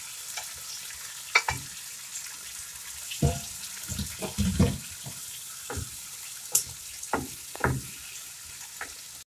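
Zucchini (kousa) flesh tipped into a pan and stirred, bursts of scraping and stirring with light background sizzle, a few distinct stirring strokes across the clip, no talking.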